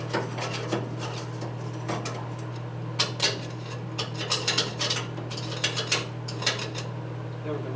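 Silicone being scraped off a surface by hand, repeated short rasping and scratching strokes in irregular rhythm over a steady low mechanical hum.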